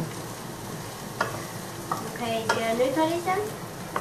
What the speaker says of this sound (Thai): ผัดลงไปสักพักนึงให้ผักมันยุบก่อน